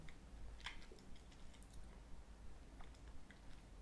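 Crunchy Ritter Sport vegan dark chocolate with nuts and amaranth crisp bits is chewed close to the mic, soft irregular crackles and squishy bites repeating quietly with no speech.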